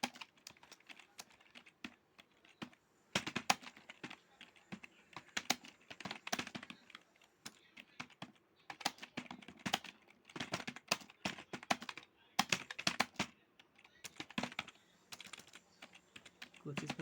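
Bursts of rapid tapping on a mobile phone's on-screen keyboard, close and clear, coming in clusters separated by brief pauses, with faint speech-like noise around the taps.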